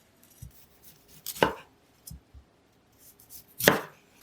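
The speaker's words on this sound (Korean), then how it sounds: "브로콜리 한 송이는 적당히 크게 써세요" Knife chopping a head of broccoli on a cutting board: a few sharp, separate cuts, two of them loud and crisp, with quieter taps between, close up and with no talking.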